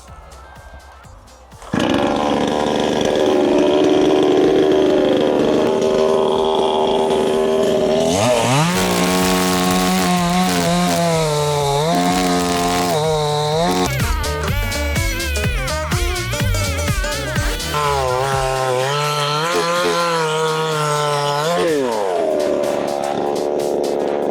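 A Pro Craft GS 52P petrol chainsaw cutting oak for firewood roars to life after a quiet start, then runs loud and near, its engine pitch swinging up and down as it revs and bites into the wood.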